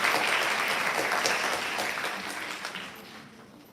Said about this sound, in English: So please give them another round of applause as well.